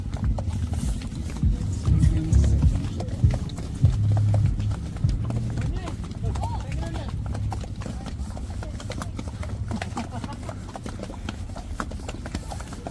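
Horse hooves clip-clop steadily during a ride around Kullu Manali, a close, rhythmic clatter that runs throughout while people talk over it.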